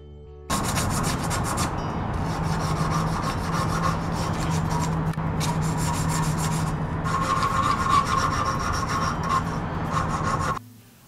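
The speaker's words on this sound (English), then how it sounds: "Then I rounded the top and base of the top with a file and sandpaper." A file and sandpaper round off the top of a wooden peg for a clothing and mask hook, making continuous close rasping and scraping strokes that run steadily for about ten seconds before stopping.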